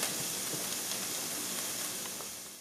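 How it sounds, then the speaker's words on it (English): Chopped onions cooking in a pan until lightly browned, giving a soft, steady hiss and sizzle that holds evenly and then fades slightly toward the end. "Cook your onions until they're lightly brown."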